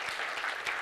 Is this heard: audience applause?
yes